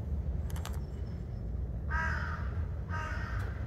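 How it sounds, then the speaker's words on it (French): Crows cawing out in quiet countryside, a few distant harsh caws spaced apart over a low ambient rumble, with faint higher chirps early on. "Si, 2-3 corbeaux de temps en temps pour te saouler"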